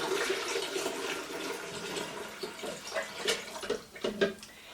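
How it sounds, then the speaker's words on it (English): Stock pouring and splashing back into a fat separator, a continuous watery gurgle close by that breaks into a few uneven glugs near the end. "I'm going to pour it all back in."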